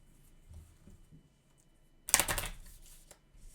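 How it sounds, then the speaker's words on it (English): A deck of cards from the Alien: Legendary Encounters deck-building card game gets a quick, close riffle shuffle in one short crisp burst after a quiet stretch. "And then we shuffle her deck and draw 6."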